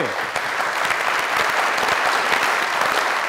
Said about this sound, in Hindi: आप सबकी ढेर सारी तालियों में